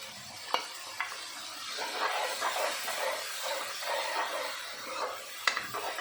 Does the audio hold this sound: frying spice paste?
yes